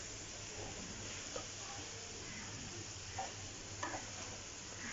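Boiled spaghetti stirred into a pan for a healthier junk-food dish: soft, quiet scraping and stirring over a faint steady sizzle, with a few louder clinks of the utensil.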